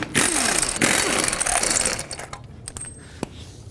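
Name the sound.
removing wheel lug nuts with 21mm socket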